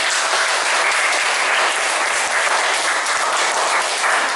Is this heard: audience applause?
yes